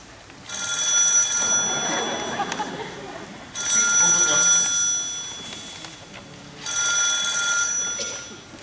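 A telephone rings on a stage during a community theatre performance at an elderly appreciation gathering, three long bursts of loud electric bell ringing separated by brief pauses, heard with room noise.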